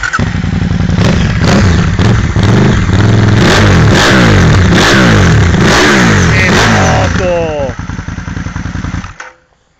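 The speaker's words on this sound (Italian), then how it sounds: "Fammi sentire il rombo di questo bicilindrico da 100 cavalli" A 100-horsepower twin-cylinder motorcycle engine revs hard close by, a loud series of throttle blips rising and falling in rapid succession before idling down and cutting off near the end.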